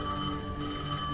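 A telephone rings in Destiny 2 as a steady tonal bell with sustained overtones, moderately loud and alone for a brief moment.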